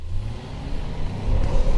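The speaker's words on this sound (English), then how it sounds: "the engine growl is more satisfying than the one in CR-V" The engine of a 2019 Honda Passport Elite AWD growls as it accelerates, a short, close, low rumble that swells toward the end with no voices.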